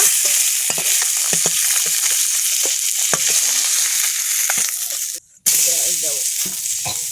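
Pond fish frying in hot oil, with a loud, close, continuous sizzle, stirring and scraping noises on top, and a brief drop to near quiet toward the end before the frying noise returns.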